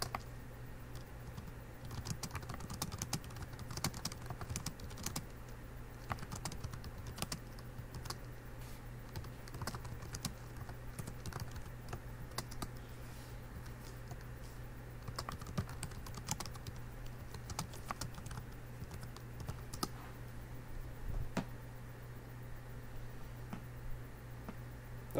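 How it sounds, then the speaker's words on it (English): Typing on a computer keyboard: rapid, irregular clicks and taps in bursts at close range over a low steady hum, quiet throughout with no talking. "I'll just type it"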